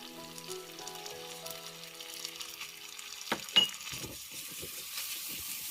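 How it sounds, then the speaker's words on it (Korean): Dried squid strips stir-fried with gochujang sauce in a pan over low heat, giving a steady soft sizzle with a few louder clinks and scrapes of stirring partway through. "잘 볶아줍니다"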